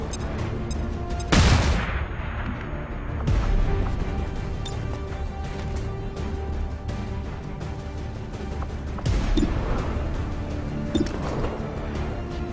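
Gunfire from the Long War 2 mod of XCOM 2, a few sharp loud shots spaced seconds apart over a dense, rumbling battle ambience, with no talking.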